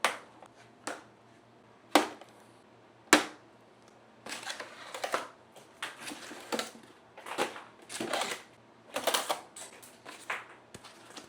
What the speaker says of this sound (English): Using a pair of snippers, remove all the zip ties on the base of the Kobra X.